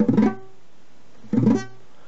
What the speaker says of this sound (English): If I have flat or bent fingers, it's going to sound like this.